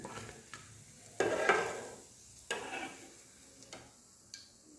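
Eggplant pakora fries in hot oil with a faint steady sizzle, broken by several short stirring and scooping clatters as the pieces are lifted out.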